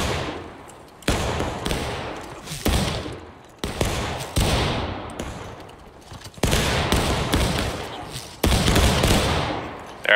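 Ragged musket volleys crackle and roll in War of Rights, a Civil War battlefield game, with several loud broadband bursts every second or two and a thick mass of scattered shots and echoing reports between them.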